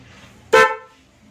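A single short motorcycle horn honk, bright and harmonic, sounding close by against a quiet background with faint engine hum.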